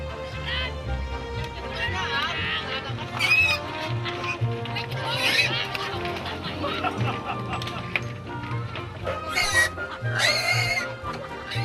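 Pigs squealing and grunting as they are moved in a Tonlé Sap floating village in Cambodia, with sharp high-pitched squeals rising repeatedly over a busy background of voices and low noise.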